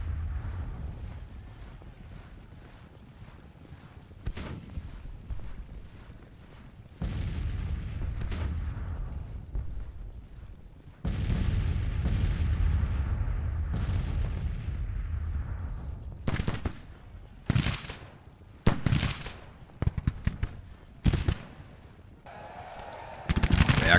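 Civil War artillery in Grand Tactician fires canister shot: sharp, booming blasts go off irregularly over a steady wind-like rumble, several reports clustering into a rapid volley near the end.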